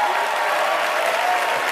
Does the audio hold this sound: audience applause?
yes